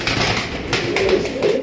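An Indian Lotan pigeon, a large bird, cooing in a busy pigeon sale loft, with low throaty coos over steady rustling and background bird noise.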